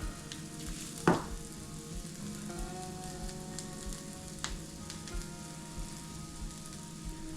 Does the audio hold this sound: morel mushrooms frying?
yes